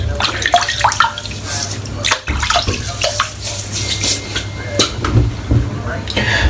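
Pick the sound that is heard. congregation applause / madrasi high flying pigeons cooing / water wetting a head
water wetting a head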